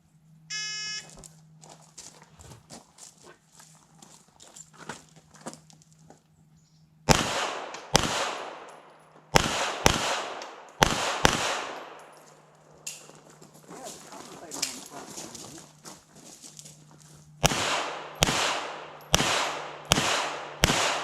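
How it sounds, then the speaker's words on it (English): Handgun shots fired at a shooting event, a series of loud sharp reports in irregular bursts, some fired in quick pairs, with a steady hum and quieter background activity between them. "because I like this, I want to shoot again"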